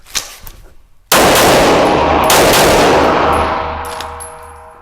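Shadow Systems DR920 polymer pistol shot at a range, a single loud, sharp report after a moment of quiet, followed by a long ringing decay with faint metallic tones.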